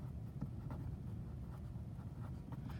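Chalk or marker scratching across a board in short repeated strokes while a trig equation is written out, steady and close with no talk.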